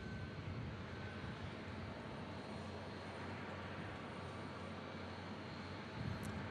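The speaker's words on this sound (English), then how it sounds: "Nice fall day as the 737-800 takes off." A Boeing 737-800 airliner taking off from Omaha Eppley Airfield on a fall day, a steady broad engine roar at moderate distance that stays constant throughout with no talk.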